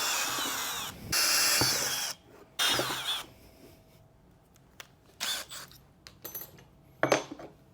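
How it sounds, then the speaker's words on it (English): A power drill drilling a hole in a sign spins in a couple of short bursts, followed by quieter clicks, taps and small clatters of tools being handled nearby. "Let's go ahead and drill the second hole."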